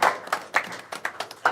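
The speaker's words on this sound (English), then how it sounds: "So let's give them a round of applause." A short burst of scattered clapping from a small group, irregular claps close by, brief and moderately loud.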